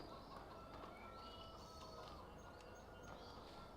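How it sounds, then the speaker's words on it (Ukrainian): Chickens cluck steadily in the video game Farming Simulator 2015, against a dense, continuous farmyard ambience, with occasional higher chirps rising above the background. "ось тут наші кури ходять"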